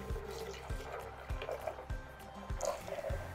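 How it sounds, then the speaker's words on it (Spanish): Barley-flavoured agua fresca trickles and drips into a pitcher in a steady low pour with soft splashes and several faint thumps, close by. "Ahora sí, vamos a servir esta agua en nuestra jarra con leche."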